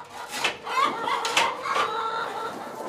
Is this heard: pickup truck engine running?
no